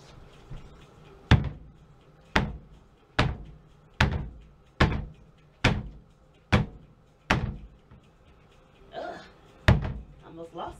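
A handmade soap mold banged down on a surface repeatedly, about ten sharp, hollow thuds at a steady rhythm, loud and close, with a brief murmur of voice between.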